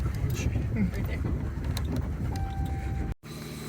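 A farm vehicle drives off a pasture at dusk with a steady, close engine rumble and wind-blown rushing noise. The sound cuts out abruptly near the end.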